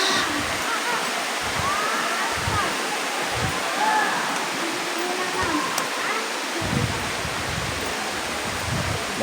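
Hulugan Falls waterfall, a steady broadband rush of falling water heard continuously at moderate loudness, with faint voices of tourists nearby.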